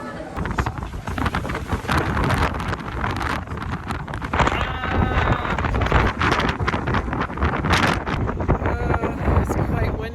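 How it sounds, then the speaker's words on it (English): Strong wind buffets the microphone on a day out in Alexandria, Egypt, roaring unevenly with gusts, while voices talk faintly underneath. "It's quite windy."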